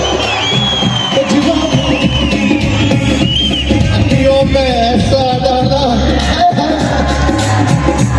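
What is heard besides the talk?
crowd clapping and cheering loudly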